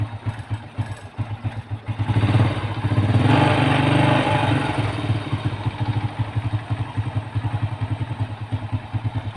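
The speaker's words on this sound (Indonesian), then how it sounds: "itu meninggikan langsam ya, meninggikan putaran mesin" Motorcycle engine idling after carburetor adjustment, its speed raised so the steady mid-pitched putter swells and climbs around the middle before settling back to a fast, even idle, close and alone.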